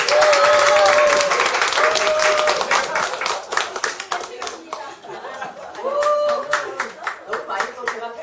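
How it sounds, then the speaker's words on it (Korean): A big round of applause from the audience at the annual general meeting of an association, dense clapping throughout with a few brief voices and chuckles rising above it before the clapping thins toward the end. "큰 박수로 하겠습니다"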